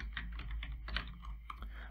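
Rapid clicks from a computer keyboard as a formula is typed into an Excel spreadsheet, the irregular keystrokes close and fairly quiet against a low steady hum.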